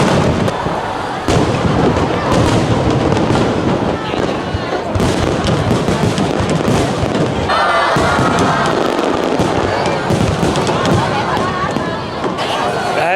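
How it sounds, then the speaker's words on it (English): Large Reunification Day fireworks display in Saigon, a dense stream of loud crackling bursts and booms at close range, with crowd noise and voices mixed underneath. "been like the closest, maybe ever, that I've been to that big of a fireworks spectacle"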